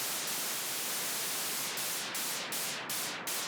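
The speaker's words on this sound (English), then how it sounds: "This exact movement, like wow wow sound with this white noise, really creates this really nice effect" Synthesized white noise for a melodic techno track hisses continuously and loudly, with a filter sweeping in repeated wow-like movements that grow more frequent toward the end.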